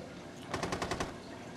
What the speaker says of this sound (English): Oh, I get shot a couple times.